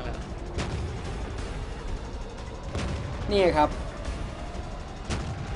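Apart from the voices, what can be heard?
tank cannon fire and explosions in a tank video game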